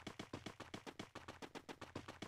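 Desert Eagle pistol fire in the mobile game Free Fire, a fast, evenly spaced string of sharp shots, roughly a dozen in quick succession, loud and without talking.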